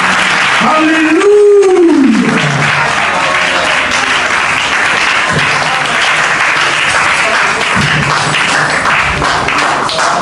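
A church congregation applauds in a sustained, dense burst of clapping, with a rising and falling cry of acclaim near the start.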